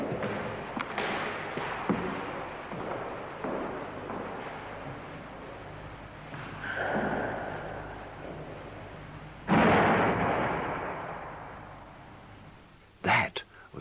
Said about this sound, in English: That was the sound of the locked door flying open and slamming shut